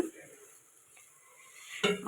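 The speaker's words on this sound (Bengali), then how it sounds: "কুন্দ্রি ভাজা হচ্ছে এখানে" Ivy gourd (kundri) fries in a home kitchen pan with a faint, steady hiss, then a sharp utensil clink and scrape near the end.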